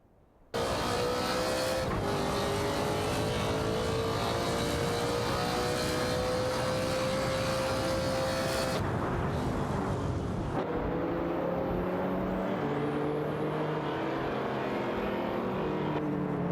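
Race cars, including Cadillac CTS-V and Ferrari Portofino models, roar continuously in an AI racing video game, with loud sustained engine whine, shifting tones and occasional tire squeal. A sharp cut to a new engine mix comes partway through.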